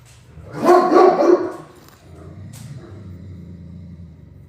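A dog barks once close up, a loud rough woof lasting about a second, followed by a low rumbling growl or grumble that continues quietly to the end.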